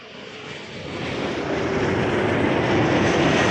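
An airliner taking off from runway 05 at Toronto Pearson, a broad roaring jet engine rush that swells steadily louder, heard alone.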